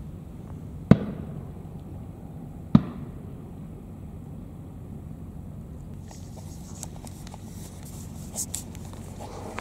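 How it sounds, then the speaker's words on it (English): Fireworks going off outside, with two sharp distant bangs in the first few seconds followed by quieter crackling pops and patter later on, heard from indoors over a low background hum. "You putting up with those fireworks, all right, mate?"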